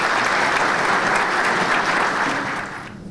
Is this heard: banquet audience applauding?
yes